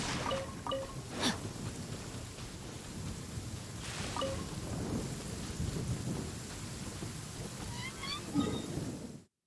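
Steady rain pours in the video game Genshin Impact while rolling thunder rumbles several times, some cracks sharper and nearer, and faint chime-like game tones ring over the downpour.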